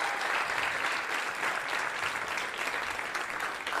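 Stand-up comedy night audience in New York City applauding, a steady dense wash of clapping that holds loud and even for several seconds with no voices over it.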